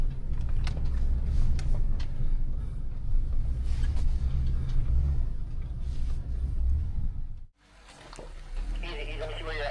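Off-road rig crawling over rocks on the Wolf Ridge trail, its engine rumbling low and steady at close range, then dropping briefly before picking back up.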